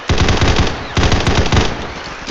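Automatic gunfire in the shooter video game Combat Master, loud and close, comes in three rapid bursts of shots.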